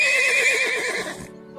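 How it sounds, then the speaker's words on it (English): A horse whinnies once, loud and near, with a quavering, trembling neigh that fades out, followed by a faint low rumble. "horses,"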